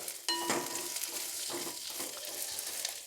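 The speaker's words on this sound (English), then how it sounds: "I am just sauteing this in little oil for about 3-4 minutes" Okra (lady's finger) sautés in a little oil in a pan for sambar, a steady close sizzle with clinks and scrapes of a stirring utensil.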